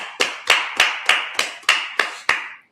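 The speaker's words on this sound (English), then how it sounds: "Clap it up." Slow, evenly spaced hand claps during a Sabbath service, about eight sharp, close, loud claps in steady rhythm, each ringing briefly in a reverberant room with no talking.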